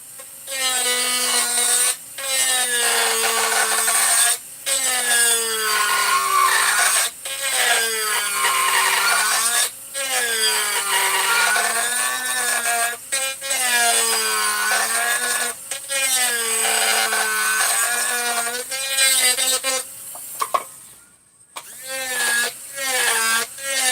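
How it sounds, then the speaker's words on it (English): A power tool grinds down a part slightly to open up clearance for a decompression valve, a loud, close, whining grind with shifting pitch that runs in repeated bursts of a few seconds, broken by brief pauses, with no talking. "So I just grind this down right here, just a tad, just open it up a bit."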